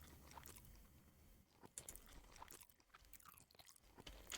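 Crunchy chewing and biting sounds of eating cabbage in Kingdom Come: Deliverance, close and fairly quiet, repeating in uneven bursts with no talking.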